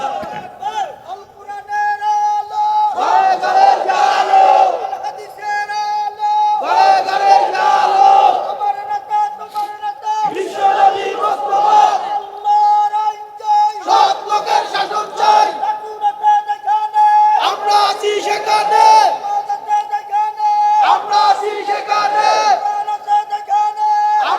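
Large crowd chanting "Allahu Akbar" in unison at a funeral gathering, answering a leader's Nara-e-Takbir call; loud, repeated bursts of massed voices every few seconds over a steady background drone.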